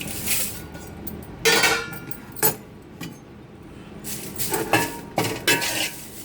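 Curry leaves and a little tamarind dry-roasting in a pan, heard as irregular bursts of a spatula scraping and clinking against the metal, with quiet gaps between strokes and no talk.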